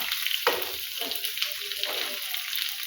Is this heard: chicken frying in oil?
yes